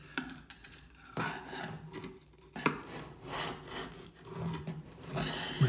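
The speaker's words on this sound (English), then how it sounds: "But it does scrape off quite easily with a chisel or a scraper." Chisel or scraper scraping old silicone sealant off a surface after a silicone remover spray, a close, rough rasping repeated in short strokes.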